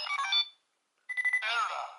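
A DX Faiz Phone X toy gives off its electronic error sound: a short burst of bright, beeping tones, then a pause and a longer, warbling electronic jingle, loud and close with no talk.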